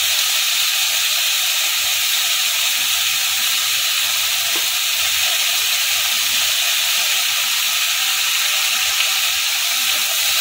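Shrimp and eggplant fry in a hot pan while being stirred, a steady, bright sizzling hiss that fills the whole clip at close range, with no talking.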